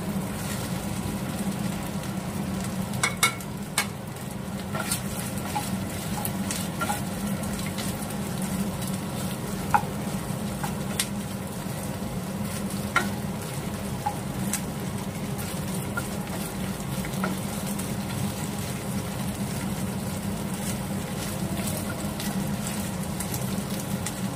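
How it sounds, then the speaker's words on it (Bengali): Mixed vegetables with capsicum frying in a pan for veg Manchurian, a continuous soft sizzle with occasional sharp pops and crackles, steady and close throughout. "ঢাকা দিয়ে একটু ফ্রাই করে নিলাম, তাড়াতাড়ি একটু সেদ্ধ হয়ে যায়।"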